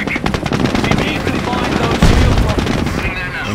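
Dense, rapid machine gun fire in the World War II strategy game Company of Heroes, loud and continuous with overlapping bursts, game voices faintly mixed in.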